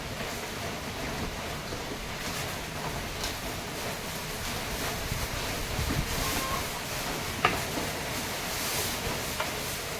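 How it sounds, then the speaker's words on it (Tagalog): Steady wind from an approaching typhoon rushes and buffets over flooded rice fields, a broad low roar with occasional gusts and faint clicks, no voices. "Medyo lumalakas na ang hangin."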